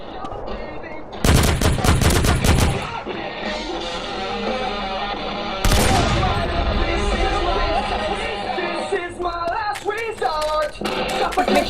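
Rapid bursts of gunfire from a shooting video game crackle in dense volleys, with a heavy barrage at the start and another mid-clip, followed by scattered shots over steady game noise and faint voices.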